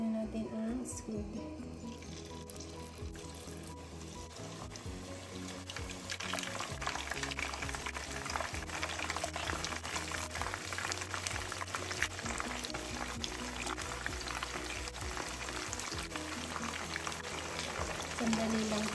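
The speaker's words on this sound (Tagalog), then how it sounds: "Ayan, mainit na ang ating mantika. Lagyan na natin ang squid." Squid pieces hiss and sizzle steadily in hot cooking oil for a calamari dish, a continuous close frying noise under background music.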